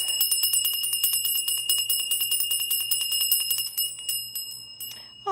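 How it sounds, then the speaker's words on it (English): A ritual bell from Sunday services, shaken rapidly for a noon rite to Isis, rings in a dense run of bright, close strikes that thin out and fade near the end, with no voices. "There is a bell, however, from our Sunday services, so we are not going to be bellless."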